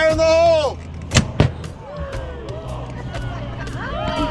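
A ceremonial cannon fires twice at an outdoor New England historic site, two loud close booms about a quarter second apart, with crowd chatter and whoops before and after.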